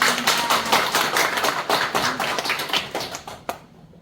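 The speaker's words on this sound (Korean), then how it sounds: "오늘 이 좋은 제품을 설명해 주신 우리 보건자 팀장님께서 박수 한번 부탁드립니다" An indoor seminar audience claps for a presenter, dense overlapping handclaps that hold strong for about three seconds, then thin out and stop abruptly.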